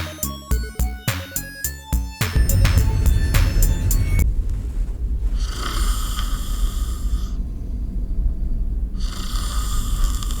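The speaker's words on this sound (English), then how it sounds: "with people snoring left and right" Snoring from fellow passengers fills a hot, crowded Russian sleeper train carriage bound for Chita, with heavy rumbling breaths repeating steadily over constant rolling rail noise and the hum of the moving carriage.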